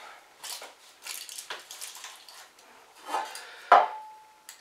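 Metal bread pans are handled one after another in a kitchen, giving soft scraping, sliding knocks and a single bright ringing clink near the end.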